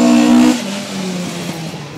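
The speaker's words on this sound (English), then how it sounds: "Oh, the Escort had to just ease off a little bit." Ford Escort rally car on a stage at Brean, engine note loud and rising at first, then dropping as the car eases off and fades into a lower rumble.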